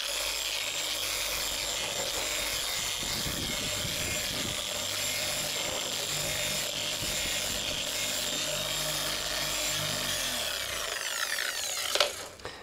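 A rotary polishing wheel spreads paste around in a circle on a workpiece edge with a steady, loud whirring drone and rubbing friction, ending with a brief rise and drop as the machine slows.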